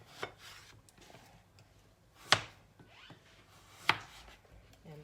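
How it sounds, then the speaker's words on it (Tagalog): A knife cuts eggplant for pakbet on a board, three distinct sharp strikes spaced a second or more apart, close and isolated against a quiet background. "Ganyan po ako maghiwa ng pakbit na lulutuin ko yung talong po"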